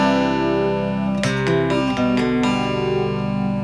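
Guitar playing notes from a solo, a quick run of picked notes ringing into each other over a sustained tone, close and loud with no talk.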